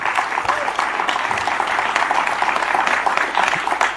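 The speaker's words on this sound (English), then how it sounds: "Can we have a round of applause for Sindhura as" Audience at the South Asia Learning Summit 2026 applauding a chapter president, a dense, continuous patter of clapping from a sizable crowd with faint speech beneath.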